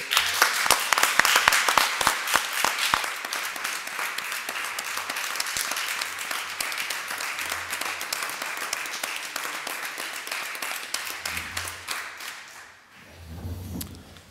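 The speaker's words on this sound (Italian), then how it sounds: "Sono contento dell'applauso in questa sala" A hall audience gives dense, loud applause at a political prayer breakfast event. The clapping is thickest at the start, then continues steadily before thinning out near the end, with a few low thumps.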